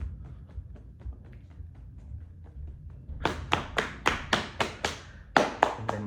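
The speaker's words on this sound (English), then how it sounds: "So tap soles of your feet." Fingertips tap the soles of the feet during a yoga rest phase: soft, faint taps at first, then a run of about a dozen crisp, close, evenly spaced slaps.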